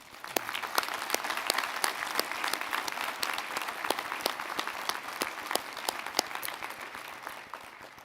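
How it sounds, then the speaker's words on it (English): Graduation audience at a technical college commencement applauding volunteers and marshals, a full, sustained wash of many hands clapping for several seconds, with crisp claps standing out near the front. "let's give them a round of applause"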